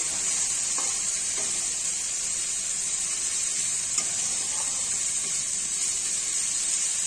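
Spices for a thin rohu fish curry frying gently in oil in a pan, a steady, loud, even sizzle and hiss that holds for several seconds, with no talking over it.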